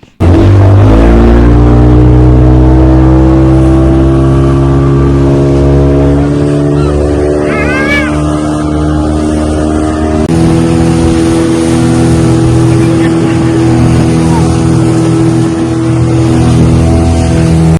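A motorboat engine drones loud and steady during a boat ride at the Bali Jatra festival in Cuttack, a close, constant low rumble with a slight shift in pitch midway.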